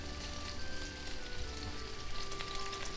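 Tomato and extra oil fry in a pan for linguine with shrimp and arugula, giving a steady, fairly quiet sizzle with a faint crackle and no talk.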